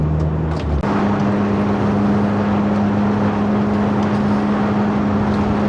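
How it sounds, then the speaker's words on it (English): Car cruising on a British motorway at 60 mph, heard as a loud, steady engine drone and road roar from inside the cabin. A single bump comes near the start and the noise stays constant, with no talk. "the car is lolloping along nicely at the mandated 60 mile an hour"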